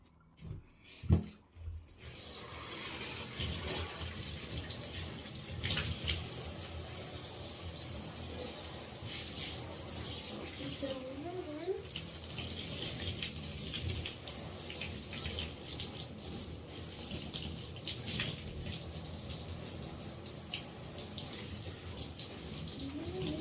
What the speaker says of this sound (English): so I'm gonna rinse out the shampoo, then I'm gonna condition my hair